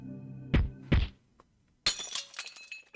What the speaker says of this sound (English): I heard the sound of shattering glass and the impact stopped.